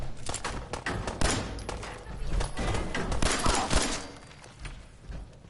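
Rapid gunfire from the Fallout 4 video game on PS4 crackles through the whole stretch in dense bursts, with a voice talking over the shooting.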